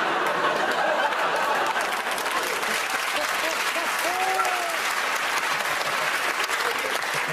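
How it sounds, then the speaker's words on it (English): Steady, dense applause from a large TV comedy panel show studio audience fills the whole stretch at an even level, with a few faint laughs and voices mixed in. "Round of applause"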